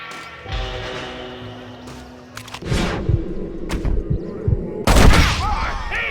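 Gunshots in an Xbox One Western-style video game, with several loud booms and a fusillade of shots under excited in-game character voices, the heaviest burst coming near the end.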